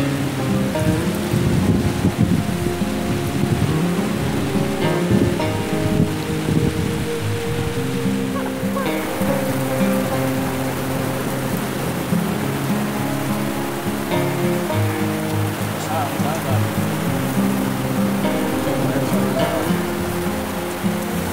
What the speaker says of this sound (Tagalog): Inulan kami.